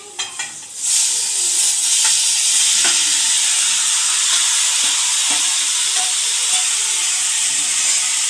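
Marinated mutton dropped into a hot pot, bursting into a loud, steady sizzle and hiss after a few soft clatters, with intermittent scraping stirs over the frying.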